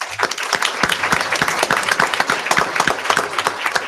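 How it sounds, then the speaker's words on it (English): Audience clapping at a school board of education meeting, a lively round of many hands with distinct sharp claps, fairly close and sustained for several seconds without talk. "A round of applause, please."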